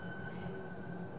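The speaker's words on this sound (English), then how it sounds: "The train going past" A passing train rumbles and hums steadily at a distance, quiet and unbroken over a brief moment, with no talk.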